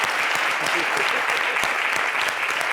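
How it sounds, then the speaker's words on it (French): A studio audience on a TV talk show applauds steadily, a dense, even wall of clapping that holds for nearly three seconds, with faint voices underneath. "On s'applaudit."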